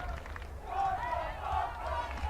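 Crowd cheering at a Brophy Broncos versus Salpointe high school lacrosse semifinal game: a broad swell of distant spectator roar rising and holding, with a faint murmur of babble beneath.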